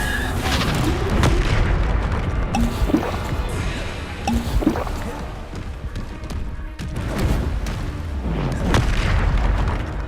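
Bombarda spell blasts from Hogwarts Legacy on PS5 go off as repeated deep booms over a dense, continuous wash of combat effects, one explosion after another across the stretch.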